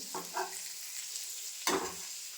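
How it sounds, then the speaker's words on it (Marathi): Pomfret fish frying in a pan at home, a steady soft sizzle of hot oil with a few brief scraping stirs, close and fairly quiet. "हे मी पापलेट फ्राय करत आहे."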